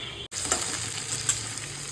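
Spices sizzle hard in a wok as khichuri gets started, a dense, continuous frying hiss that begins after a brief pause and carries on close and loud.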